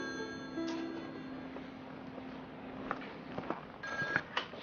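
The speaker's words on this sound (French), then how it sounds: "Ah, mon téléphone, c'est pour moi." A telephone rings faintly indoors in a Haitian drama film, a soft, steady electronic trill under a low room hiss with no voices.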